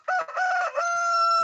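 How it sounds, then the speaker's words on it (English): A cockerel crows once, close and loud, a single harmonic call with a rising start and a long held ending, with no other sound around it. "why are you making noise closer to me, you cockerel?"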